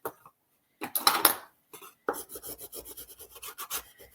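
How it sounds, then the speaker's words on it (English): Bone folder rubbing over a glued paper bag on a crafting table, a burst of scraping followed by rapid, rhythmic rasping strokes, close and fairly quiet, with brief pauses between. "I just take my bone folder and I kind of rub to move that glue in place."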